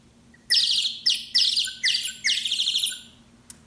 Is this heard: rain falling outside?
no